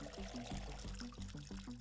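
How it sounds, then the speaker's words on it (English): Watering can being filled in the Schedule 1 game: a steady pouring, gurgling stream of water running continuously and fairly loud, with repeating low rhythmic pulses underneath throughout. "fill it up with water"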